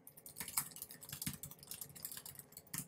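Someone types on a computer keyboard in a quick, uneven run of soft key clicks with a few louder strokes. The clicks are faint and close, and nobody talks over them.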